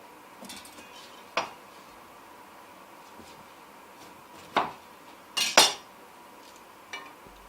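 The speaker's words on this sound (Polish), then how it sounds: "Nóż jest tępy czy ostry, bez problemu kroi paprykę." A kitchen knife cuts bell peppers for pickling, giving a few sparse, sharp cuts and clinks against the board spread across the stretch, with a quiet background between them.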